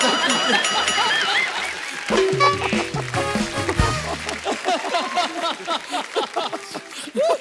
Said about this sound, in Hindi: प्रज्ञा जी के लिए जोरदार ताली हो जाए